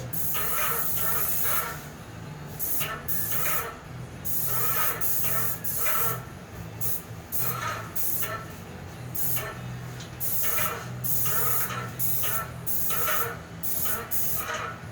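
Renner wood coating is applied onsite with a Tritech airless sprayer, giving loud bursts of hissing spray that start and stop in repeated passes, close up.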